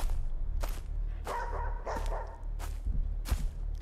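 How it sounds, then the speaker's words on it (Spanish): Dog barks ring out in a horror video game set in a frightening forest, a series of sharp, separate barks at moderate volume, some muffled, with a whimpering tone between them. "Me da la sensación de que se escucha más cerca el ladrido"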